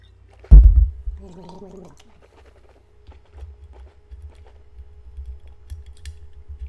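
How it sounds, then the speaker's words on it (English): A person gargles close by. A sharp loud splutter is followed by a short bubbling, warbling throat gurgle, and then faint scattered clicks and rustling. "Excuse me for gargling."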